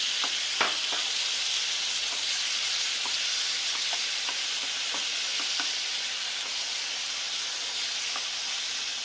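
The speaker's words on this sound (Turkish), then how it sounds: "Kavrulan biber ve sarımsaklarımın üzerine rendelenmiş domatesimi de döküyorum" Grated tomato poured into a pan of fried peppers and garlic for a zucchini dish, heard as a loud, constant sizzle with scattered small clicks and taps, and no talking.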